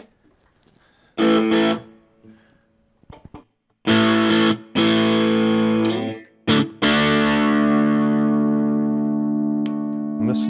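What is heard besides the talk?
Aria Pro II electric guitar played with distortion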